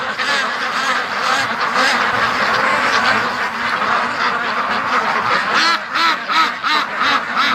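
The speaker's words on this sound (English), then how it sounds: "and the ducks are going to be going crazy." A flock of free-range ducks quacks loudly and constantly at night under a bright moon, the many overlapping calls forming a dense, chattering din with no pauses throughout.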